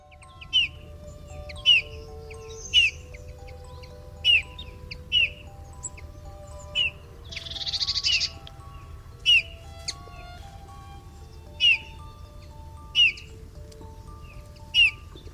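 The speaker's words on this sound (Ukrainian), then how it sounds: "Малята пропоную вам послухати, як співає снігур." A Eurasian bullfinch sings in winter: short, soft piping calls repeat roughly every second or so over a quiet background, with a brief fuller burst midway, heard alone and fairly near.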